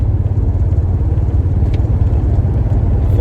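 A 1949 Studebaker Champion, back on the road after sitting for twenty years, labours to pick up speed, its engine droning low and steady with a constant rumble and faint rattles throughout, loud and close with no talking.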